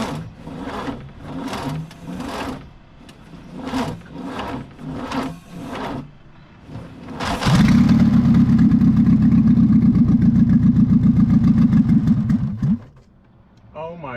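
A barn find Opel GT engine cranks with several rhythmic starter bursts, then catches and runs loudly at a steady, rough idle for about five seconds before cutting off, with a person exclaiming briefly at the end.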